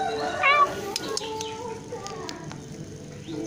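A short, faint meow rises briefly near the start amid quiet indoor background noise and a few soft clicks.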